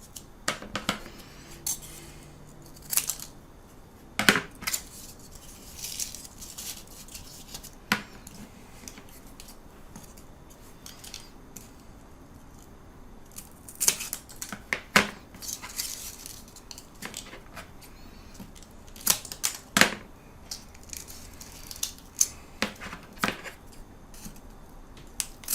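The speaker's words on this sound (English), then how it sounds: "We can cut the rest of them." Pieces for a Drac assembly are snipped one after another, sharp scattered clicks and snaps up close against a quiet background, irregularly spaced with brief pauses between cuts.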